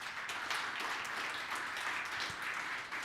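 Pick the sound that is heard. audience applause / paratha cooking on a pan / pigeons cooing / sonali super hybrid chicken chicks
audience applause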